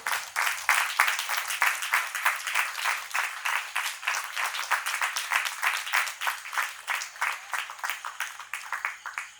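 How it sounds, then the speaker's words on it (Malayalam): An audience at a temple anniversary cultural evening in Parali applauds an honouree being draped with a ponnada shawl, a steady dense clapping that holds for the whole stretch with a gently pulsing swell and no talk over it. "നല്ലൊരു കയ്യടി കൊടുക്കൂ"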